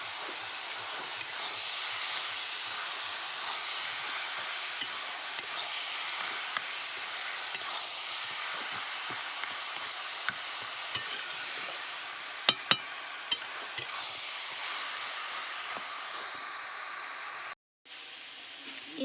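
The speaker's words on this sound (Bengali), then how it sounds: "কপিটা প্রায় ভাজা ভাজা হয়ে গেছে পাতাকপিটা" Shredded cabbage and a crushed katla fish head fry in a pan, a steady soft sizzle broken by occasional clinks and scrapes of stirring, with no voices, cutting off abruptly near the end.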